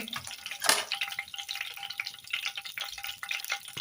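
Mustard seeds and cumin sizzle in hot oil in a pan, giving a steady crackling fry with scattered pops and one louder spatter near the start, fairly close.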